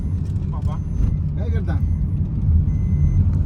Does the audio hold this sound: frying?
no